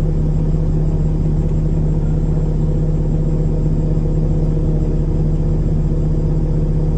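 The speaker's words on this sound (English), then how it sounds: "put it in the up position, and you should hear the PTO working, and watch your box raise" Dump truck power take-off with an automatic transmission running to raise the dump box, a loud, constant low engine rumble with a steady hum, unbroken and close.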